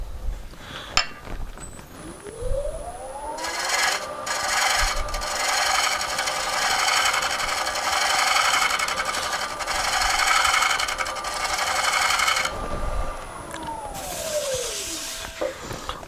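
Wood turning gouge cutting on a lathe, a steady rasping hiss as the tool rides the spinning wood for about ten seconds, starting and ending with a smooth tonal whir of the lathe.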